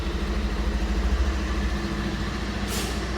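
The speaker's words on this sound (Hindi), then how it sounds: "आज भी वही वाला तो एग्जॉस्ट नोट है।" A 2025 Bajaj Pulsar 150 motorcycle idles close by, its exhaust note a steady low rhythmic thrum that pulses evenly and stays loud throughout, with no talking.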